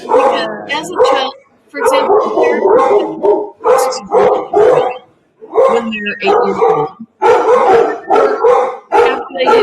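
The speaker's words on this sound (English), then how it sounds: "Oh goodness, excuse my dogs." Several pet dogs bark and yip repeatedly at close range in a home, loud and insistent, overlapping someone talking throughout.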